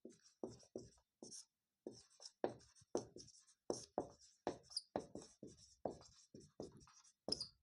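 Chalk or pen writing on a board or paper during a Class 10 maths lesson on triangles, a steady series of short scratchy strokes, close and distinct, with brief pauses between words and no talk.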